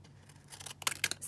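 A few quick snips of decorative scissors cutting a paper book page, close and quiet, in a short crisp cluster near the end.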